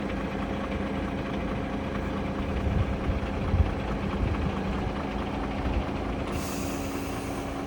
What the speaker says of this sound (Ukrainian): Двигун працює, працює чітко рівно.